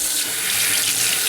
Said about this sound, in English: now I'm going to fill the sink back up